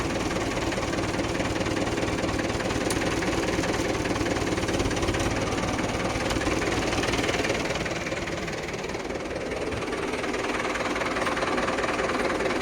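A Mahindra 475 tractor's diesel engine runs steadily at idle, a loud, continuous low rumble with a slight knocking pulse that stays even throughout, with no speech over it.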